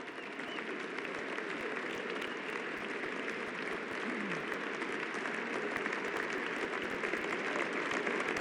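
Sustained applause from a large audience at the US Capitol after the inauguration of the 47th president, a steady dense wash of clapping that holds at an even level throughout.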